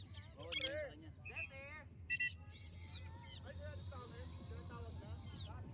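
Birds at the Pinaglabanan shrine grounds give quick warbling, chirping calls and a long thin whistle, heard close over low background noise and mixed with people talking nearby.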